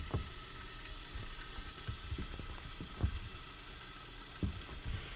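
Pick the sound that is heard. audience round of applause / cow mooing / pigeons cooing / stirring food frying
stirring food frying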